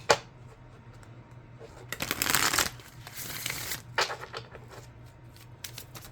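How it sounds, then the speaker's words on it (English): Oracle cards are shuffled by hand in a quiet room, with a couple of longer riffling bursts between soft taps and small rustles. "I'm going to shuffle."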